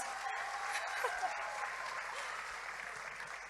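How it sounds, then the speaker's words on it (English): Audience applause fills the hall at the St. Lucia Taiwan Cultural Night, a dense, steady wash of many hands clapping together for the whole stretch with no letup. "Ladies and gentlemen, another round of applause."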